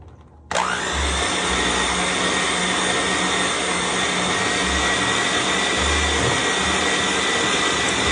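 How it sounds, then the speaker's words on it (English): An electric mixer switches on abruptly and runs at a steady, loud, constant whir, beating sweet potato casserole with softened cream cheese and butter until creamy. "we're going to use our mixer and we're going to give this a mix until creamy"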